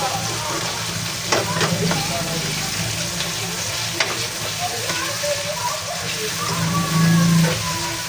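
Tomatoes and sigang green chilies sizzle in a frying pan with a steady hissing crackle, stirred now and then with soft clinks and scrapes, a faint voice murmuring briefly beneath.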